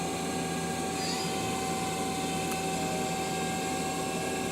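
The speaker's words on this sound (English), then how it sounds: "The main spindle is running at 1500." Steady whine and hum of a Mazak Quick Turn 200MS CNC turning center with its main spindle running at speed, a continuous even machine drone with constant tones and no pauses.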